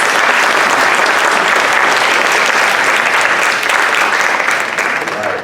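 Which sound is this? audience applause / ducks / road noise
audience applause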